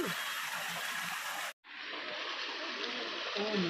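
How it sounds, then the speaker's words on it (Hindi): Waterfall flowing beside a Shiva lingam at the Bhimashankar jyotirlinga temple, a continuous broadband rush of falling water, fairly soft, with a brief cut in the middle. "देखिए यहाँ पे आवाज़ भी कितनी अच्छी आ रही है शिवलिंग के पास में झरना बहने की"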